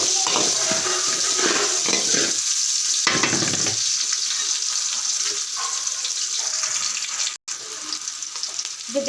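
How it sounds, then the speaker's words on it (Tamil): Garlic, curry leaves, green chilli and onion sautéing in a pan, a continuous loud frying sizzle with scraping stirs and clinks near the start, briefly cutting out toward the end, no voices. "நல்லா வதக்கிக்கிறேன்"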